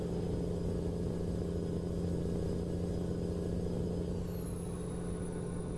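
A steady, droning engine rumble of a turbocharged classic truck in American Truck Simulator, with a constant low hum and a high whine that bends downward near the end, loud and continuous with no talking.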